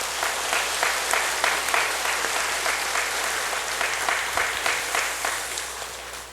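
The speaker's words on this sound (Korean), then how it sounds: "우리 한번 하나님께 영광의 박수를 올려드리겠습니다." A church congregation applauds together in a long, even round of clapping that stays steady and dense from start to finish.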